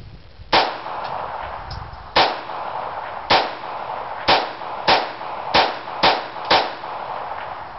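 A Ruger Mark III and a Smith & Wesson 22A .22 pistol fire eight sharp, cracking shots at an outdoor range. The shots come at irregular intervals, closer together toward the end, with no talking between them.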